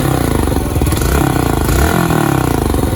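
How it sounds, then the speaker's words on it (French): A Yamaha YBR 125 motorcycle, under restoration, idles and runs steadily nearby, its single-cylinder engine and exhaust producing a continuous loud throbbing thrum with mechanical clatter throughout. "je vous présente la moto cette fois-ci en route. On peut l'entendre le pot."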